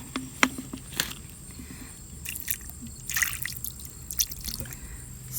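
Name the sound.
water poured over yellow rocks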